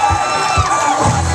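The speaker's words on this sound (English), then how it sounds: "let's give our newlyweds a nice round of applause" Wedding guests cheer and applaud the newlyweds at a reception at the Wachusett Village Inn, a loud, dense crowd roar with shouts rising over continuous clapping throughout the short moment.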